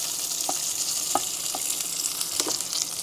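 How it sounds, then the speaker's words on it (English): Bacon sizzles and spits steadily in a pan inside a camper van, a loud continuous frying hiss broken by a few soft pops and clicks. "So what I'm gonna do is I'm obviously making bacon."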